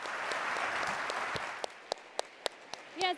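An audience at the Startup World Cup Grand Finale applauds Barbara Corcoran of Shark Tank after a fireside chat. The dense clapping fades to a few scattered claps, and a voice cuts in at the very end.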